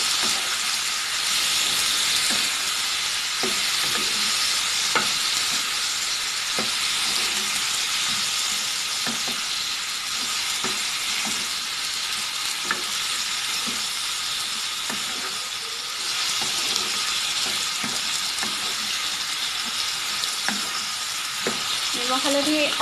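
Tomatoes with salt and turmeric fry in a pan for paneer butter masala, giving a steady soft sizzle and hiss with scattered small pops and stirring clicks throughout.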